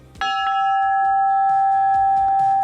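A bell in a waterfront house rings out once, loud and close, answering a passing trolley's bell, then its metallic tone lingers and slowly fades while faint knocks and room sounds continue.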